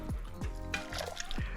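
Hot cooking water being poured off a pot of freshly cooked beans, a close, steady splashing pour broken by brief gurgles and clinks.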